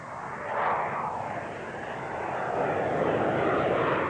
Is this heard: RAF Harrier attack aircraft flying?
yes